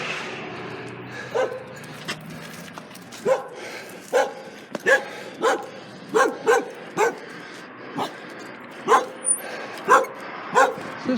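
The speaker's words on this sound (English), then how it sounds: "Check this out, they got a guard dog." Two guard dogs bark repeatedly at a lake near Page, Arizona, giving short, sharp woofs at an uneven rhythm from close by, with occasional voices in the background.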